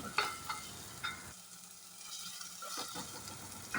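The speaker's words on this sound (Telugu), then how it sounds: "ఇదంతా నూనెలో బాగా వేగితే మంచి స్మెల్ వస్తుంది బాగా వేయించుకోవాలి" Ginger garlic paste frying in oil for a prawn curry, a faint sizzle with a few light stirring scrapes and taps, briefly dropping quieter midway before the sizzle returns.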